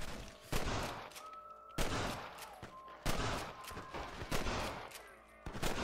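Repeated gunfire in the Western video game Red Dead Redemption, six sharp, loud shots spread over a few seconds against a busy game backdrop, no talking.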